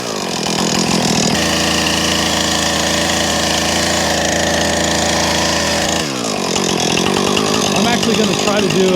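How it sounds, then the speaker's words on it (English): A chainsaw roars loud and close while cutting into a tree, its engine note steady and strained, briefly dipping around six seconds before revving back up. "I'm actually going to try to do a plunge cut and leave the back for a trigger."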